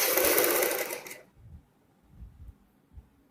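A sewing machine stitching a seam on a suit made from an old embroidered one runs in a loud, close burst for about a second, then stops, leaving faint low handling thumps.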